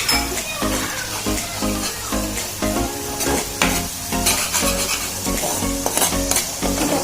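Loud sizzling and frying of onions with cumin powder and spices for a country chicken curry, with a spoon or spatula stirring and scraping the pan in a steady rhythm, close up and without talk.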